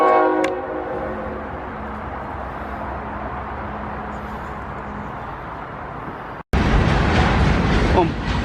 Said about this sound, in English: You have the train going on the modern track